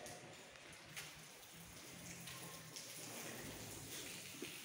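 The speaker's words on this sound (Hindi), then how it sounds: "बहुत अच्छी बारिश हो रही है यहाँ।" Heavy monsoon rain falls at a village house, a dense, steady hiss of drops with no break from start to finish. No voices are heard.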